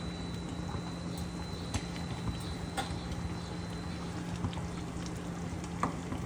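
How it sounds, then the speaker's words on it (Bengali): Prawns drop into a boiling mustard and poppy seed gravy, which bubbles and simmers at moderate volume under a steady low hum, with a few soft clicks and splashes and no speech. "ঝোলটা ফুটে গেছে, এবার আমি চিংড়ি মাছগুলো এতে দিয়ে দিচ্ছি।"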